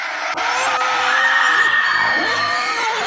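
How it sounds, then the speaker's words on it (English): A sustained, loud, shrill wail from the Screamer monster in a Disney-style horror game, a dense layered shriek with warbling pitch that holds steadily for about three seconds. "I called him the Screamer because of the sound that he makes"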